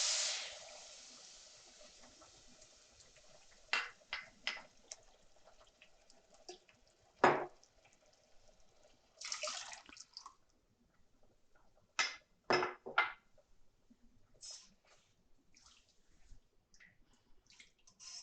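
Water is poured from a measuring cup into rava for kesari, a short splashing pour at first, then scattered drips and light clinks in a quiet kitchen.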